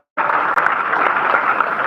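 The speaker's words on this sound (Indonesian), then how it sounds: "Tepuk tangan." A church congregation at a Christmas service in Kuala Kapuas breaks into sudden, steady applause that starts abruptly and holds at full strength, with no talking over it.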